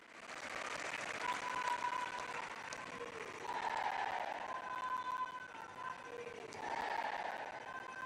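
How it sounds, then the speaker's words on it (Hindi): A large outdoor audience in Navsari, Gujarat applauds to welcome Prime Minister Narendra Modi, sustained crowd clapping rising and falling in waves, heard at a distance with a faint tonal hum underneath. "आइए जोरदार तालियों के साथ आमंत्रित करते हैं अपने प्रेरणादायी संबोधन के लिए।"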